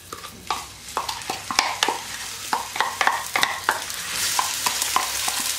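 Onions frying in a couple of ladles of oil in a pan during Algerian home cooking, with a steady sizzle and repeated sharp clicks of a utensil stirring against the pan throughout.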